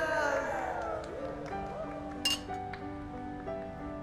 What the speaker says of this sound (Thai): ทุกคนครับชนแก้วเชียร์